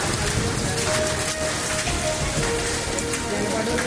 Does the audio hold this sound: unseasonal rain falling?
yes